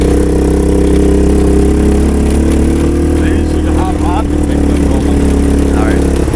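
A golf cart fitted with a three-wheeler motor runs hard in gear, its engine a loud, steady droning roar throughout with a slight rise in revs, while voices talk over it.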